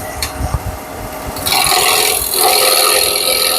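Bowl gouge cutting wood on a lathe, starting with light scraping and taps, then a loud sustained rasping, hissing cut close up.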